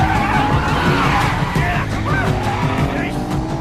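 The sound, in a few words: car accelerating away in film Special Delivery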